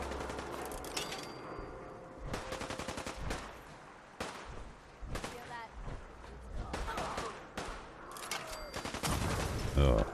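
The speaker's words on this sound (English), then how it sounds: "Well, quite the gun battle going on up there." A gun battle between super mutants and raiders in Fallout 4, with bursts of automatic and single gunfire rattling in clusters at moderate distance, mixed with talk.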